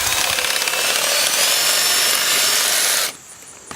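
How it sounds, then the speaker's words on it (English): A steady, loud whirring drone of a Farmer's Friend Quick Cut greens harvester powered by a drill, running continuously with a gritty rubbing edge, cutting off abruptly near the end. "we've got our quick cut greens harvester from Farmer's Friend, and just hook that up to our drill"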